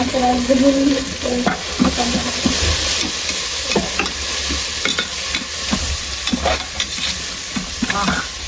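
Coriander and mint leaves sauté for biryani in a home kitchen, giving a continuous loud sizzle with repeated scraping stir strokes and clinks of the spoon against the pot.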